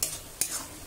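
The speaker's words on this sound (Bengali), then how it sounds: "আবারও নেড়ে নেব।" Sweetened banana flower curry (mochar ghonto) is stirred in a pan, with two quick scraping strokes over a faint background sizzle and no voices.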